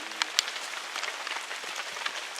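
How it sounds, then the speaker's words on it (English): Steady rain pattering on a hard surface at a farm in Kwahu, with a few sharper drips standing out over the constant wash of falling water. "It's still raining."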